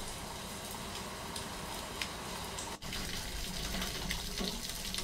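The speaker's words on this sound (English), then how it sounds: "Some gutter splatter." Rain splattering from a gutter, a library sound effect, with continuous close watery spatter and gushing, steady and dense throughout.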